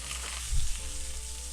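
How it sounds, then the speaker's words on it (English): Steady, crackling sizzle of food frying in an iron skillet, close up and continuous, with a brief low clunk partway through. "But you want to fry these up, and here you're going to hear the sizzle."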